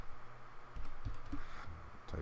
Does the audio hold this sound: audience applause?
no